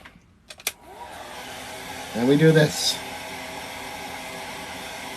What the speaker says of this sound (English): It's my blow dryer. I have to plug it in because these are taking too long to dry.